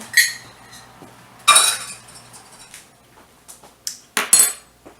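A spoon clinks and scrapes in a pan while stuffed bell pepper filling is stirred, with a few sharp metallic taps and rattles spaced irregularly, close and fairly loud with quiet gaps between.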